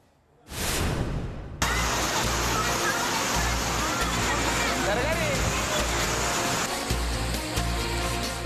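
Fast-flowing floodwater surges through a flooded temple in Kurnool, Andhra Pradesh: a loud, continuous roaring rush of water that starts abruptly and holds steady, with a faint murmur of crowd voices underneath.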